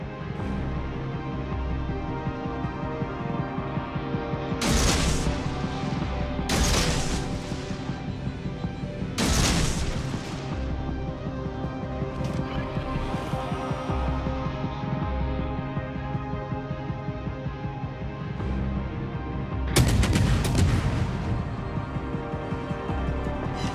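Destroyer Fubuki's guns fire in World of Warships Legends, several sharp heavy salvos booming at irregular intervals over a constant low rumble of engine and sea ambience, loud and close.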